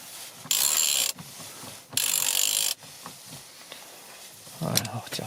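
A ratchet loosens an M12 XZN bolt on an Audi in two loud, rapid bursts of clicking, each about a second long and separated by a brief pause, followed by quieter handling sounds and a soft knock.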